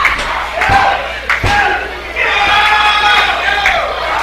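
A wrestling crowd at an Anarchy Wrestling 10th anniversary show shouts and chants in rising rhythmic bursts, close and loud, with sharp slams and smacks from the ring cutting through the noise.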